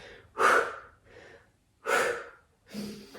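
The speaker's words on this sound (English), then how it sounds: "Keep the breath moving. Noisy exhales." Three forceful, breathy exhales during a yoga HIIT workout, each a loud burst of air with pauses between, the first and second strongest and the third slightly softer.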